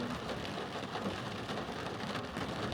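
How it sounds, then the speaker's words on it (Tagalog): Heavy rain pours down and grows stronger, a dense continuous hiss of drops on surfaces with a low rumble underneath and no voices. "Lumalakas yung ulan."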